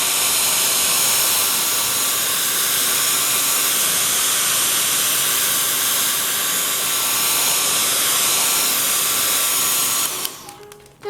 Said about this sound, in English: And then I normally do take my little dryer, which I'm going to do now just for a few seconds.